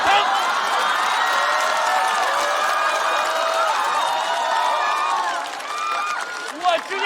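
Audience at a stand-up comedy show cheering and clapping, a steady, dense wash of crowd applause with whoops that holds loud for several seconds and then thins toward the end.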